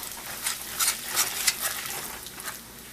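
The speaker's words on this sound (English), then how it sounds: "1 teaspoon of cumin seed and 1 teaspoon of besan, and just roast it for few seconds" Cumin seeds and besan gram flour roasting briefly in a pan, a soft close sizzle with scraping stirring strokes and light pattering crackle.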